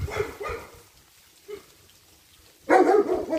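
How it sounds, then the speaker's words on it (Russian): Neighbours' dogs bark beside a country dacha plot among old pines, a few sharp barks at the start, a single faint yelp mid-way, then another loud burst close by. "Ну тут это соседские собачки"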